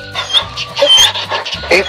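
A dog barks repeatedly at moderate distance beneath people talking, in a Filipino village setting in Leyte.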